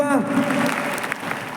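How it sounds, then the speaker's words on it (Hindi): Audience applause for a woman at a company gathering, a brief burst of clapping that rolls on as a voice fades out at the start. "जोरदार तालियां इनके लिए"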